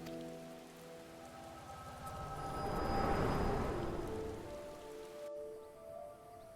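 Steady rain falls in the Final Fantasy XIV video game, a dense broadband patter that swells louder midway and then eases, heard under soft tonal game music with no one talking.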